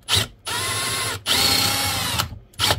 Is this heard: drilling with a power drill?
yes